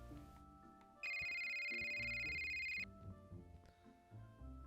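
A telephone rings with a bright electronic tone lasting about two seconds, loud and close, amid faint household rustling before and after.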